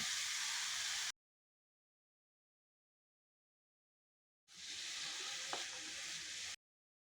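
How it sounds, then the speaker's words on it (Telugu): Ginger garlic paste and spring onion frying in a pan for a spring onion and moong dal curry, giving a steady broadband sizzle in two bursts split by a few seconds of silence, fairly quiet and close. "అల్లం వెల్లుల్లి పేస్ట్ వేస్తున్నాను. స్ప్రింగ్ ఆనియన్ వేస్తున్నాను."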